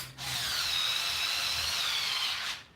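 Power drill driving bolts during assembly of a RitFit M1-C Smith machine, one steady whirring run of nearly three seconds, close and fairly loud, starting and stopping abruptly.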